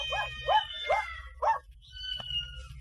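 A dog barks four times in quick succession, then gives a softer whine, close and clear over a low background hum.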